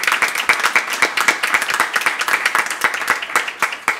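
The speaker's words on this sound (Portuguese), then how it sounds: "vou bater agora palmas para Zé Lacerda." A crowd claps steadily and continuously, dense applause up close with no pauses.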